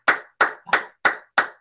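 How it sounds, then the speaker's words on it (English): Hands clap five times in a steady, even rhythm, each sharp clap close and loud with a short decay, alone with no talk. "I wasn't even taught to applaud properly"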